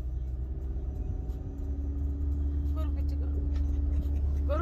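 A small car's engine rumbles steadily and climbs as the driver gives it gas, a low droning hum rising in pitch, with people talking over it inside the car.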